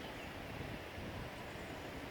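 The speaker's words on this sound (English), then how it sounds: "It is a bit windy, guys, sorry about that" Wind gusts across an open outdoor cemetery in Mauritius, a steady low rush buffeting the microphone throughout, with no voices.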